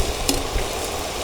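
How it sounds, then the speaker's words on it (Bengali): Jalebi batter fries in hot oil with a soft, steady sizzle and one brief sharper crackle, quiet and close with no talk. "দেখেন আমি কত বড় জিলাপি ভাজছি"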